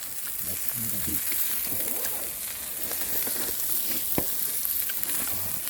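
Beef tripe (gopchang) and heart sizzle and fry over a fire lit in a can outdoors, a steady loud hiss with small crackles and occasional stirring, with low voices murmuring underneath.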